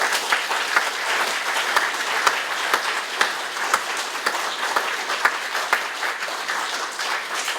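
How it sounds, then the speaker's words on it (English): A union meeting audience applauds the Local 10 longshore delegates with steady, dense clapping that holds at an even level throughout, sharp individual claps standing out within the crowd. "I think they need a round of applause for that."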